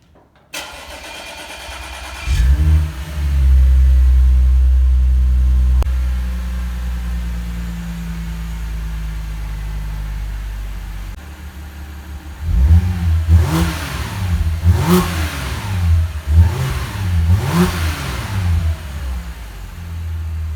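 An Audi S4 engine with a newly fitted exhaust cranks and starts, idles with a deep drone, then revs several times in quick bursts, loud and close.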